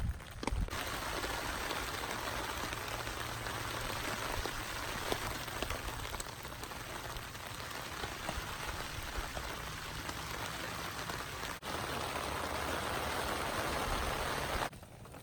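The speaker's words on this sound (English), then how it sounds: "it's definitely been raining." Steady rain patters on surfaces around a woodland hammock camp, a dense, even hiss of drops that stays constant for the whole stretch with no voices.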